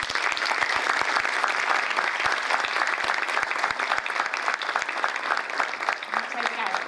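An audience at an academic literary symposium gives sustained applause, many hands clapping in a dense, steady roll with a few sharper individual claps standing out, continuing for several seconds.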